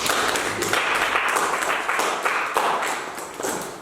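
A church congregation applauds and claps for Jesus during a French-language healing service, a dense, steady wash of many hands lasting throughout, loud and close with a slight swell near the end.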